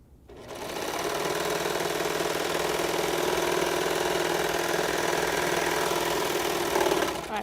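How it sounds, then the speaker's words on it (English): A sewing machine stitches a seam on a flared one-piece skirt, its rapid mechanical whir and chatter running steadily for about seven seconds, close and unbroken. "one more seam"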